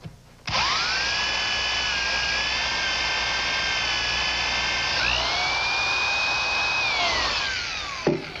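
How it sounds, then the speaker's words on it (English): Power drill boring through the bottom of a wooden workpiece for caster carriage bolts: a loud, steady high whine lasting about eight seconds, rising in pitch partway through, then winding down, with no talking. "And now I'll finish drilling it through the bottom."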